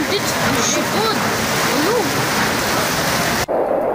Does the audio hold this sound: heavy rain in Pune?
yes